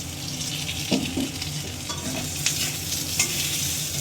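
Fried potato pieces and half an onion stirred in hot oil in a pan after frying fish for a Bengali fish curry, giving a steady close sizzle with scraping stirs and a few sharp clinks.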